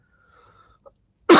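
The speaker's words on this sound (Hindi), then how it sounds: "अभी दिक्कत है, खांसी है बहुत।" A lecturer with a bad cough lets out a single sudden, loud cough at the very end after a near-silent pause, with only faint breathing before it.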